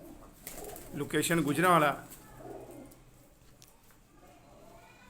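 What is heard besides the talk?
pigeons cooing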